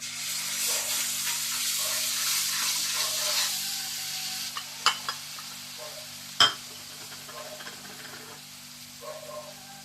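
Spice paste with cumin and asafoetida sizzling in hot oil in a kadai, a soft steady hiss with light stirring scrapes and a couple of sharp utensil clinks later on, with no voices.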